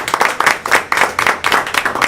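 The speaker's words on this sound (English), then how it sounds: "Let's give them a big round of applause." At a Rotary Club meeting, a small group claps for two guests, a close, loud, uneven patter of individual hand claps with no talking over it.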